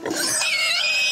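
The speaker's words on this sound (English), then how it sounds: "they squeal as if they're being murdered, and they fight" Pig squeals loudly and shrilly in one short, close burst, likely as it is handled or turned upside down.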